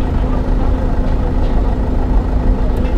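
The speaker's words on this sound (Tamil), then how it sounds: "full traffic" Dense road traffic on a busy route in Tamil Nadu, with trucks and buses: a steady, close rumble of heavy engines idling and crawling, with no clear pauses.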